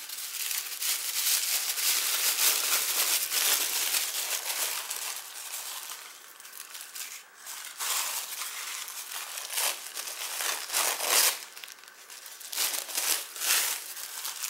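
Paper is crumpled by hand for a travel journal cover, a dense, loud crinkling that runs for several seconds in continuous bursts with brief pauses, with no talk over it.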